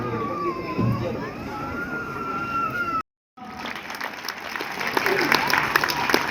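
At a political turban-honouring ceremony for a member of parliament in Haryana, a crowd claps in sustained applause, broken by a brief cut, then swelling louder, with voices and a siren-like tone mixed in.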